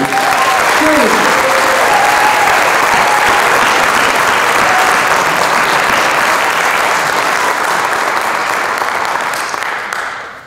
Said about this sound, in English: So we get a round of applause for everybody.